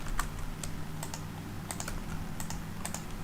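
Steady, light clicking of keys on a computer keyboard, close and fairly quiet, with an irregular rhythm of bursts over a low background hum and no talk.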